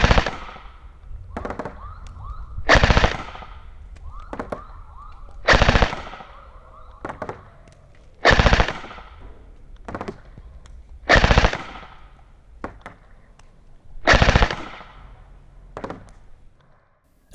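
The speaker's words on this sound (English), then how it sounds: "now let's try 30 shots from a gel blaster to show you what you'd get from 1 second of holding down the trigger" A gel ball blaster fires repeated 5-round bursts, each a sharp, loud cluster of rapid pops separated by pauses of a few seconds, with lighter clicks and taps in between.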